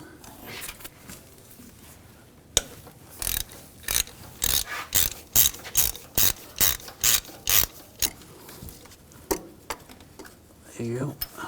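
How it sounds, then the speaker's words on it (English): A hand ratchet with a 13mm socket turns out the side bolts of the vacuum pump on a 2014-2018 GMC Sierra 5.3L V8. Close, loud bursts of rapid pawl clicking repeat in a steady back-and-forth rhythm, with a voice heard briefly. "on the side of the pump, we're going to use a 13mm socket"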